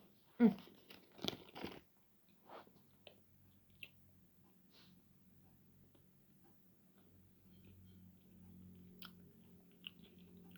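A raspberry-topped doughnut being eaten up close: a few sharp bites and crunchy chews at the start, then quieter soft chewing against a low hum.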